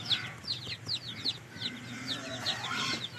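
Free-range backyard chickens cluck and chirp repeatedly in a farmyard, a steady run of short calls at moderate distance over low outdoor background noise.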